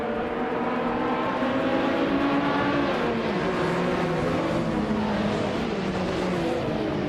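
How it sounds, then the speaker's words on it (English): Several race cars in a racing video game roar off the start line at Horsma Raceway, led by a turbocharged 2016 Subaru Impreza RX-D rallycross car, a dense, steady drone of overlapping engines holding loud throughout. "the race has just kicked off at Horsma Raceway Trophy"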